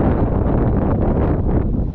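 Strong typhoon Tino wind on a farm, roaring in loud, gusty blasts that buffet the microphone with continuous rumbling noise and no break.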